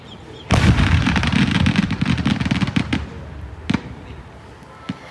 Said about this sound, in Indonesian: balon udara dan petasan berukuran besar meledak